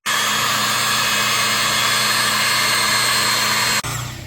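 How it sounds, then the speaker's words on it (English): A hydraulic pump runs steadily, driving steel pier pipe into the ground beneath a house during foundation repair. The drone is loud, close and continuous, then cuts off abruptly near the end. "With the hydraulic pump, we push pipe by pipe until we reach the load-bearing strata"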